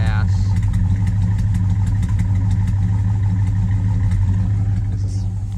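A restored 1966 Oldsmobile Delta 88 V8, running on decades-old gas, idles steadily with a deep, continuous low rumble close by and no change in pace throughout.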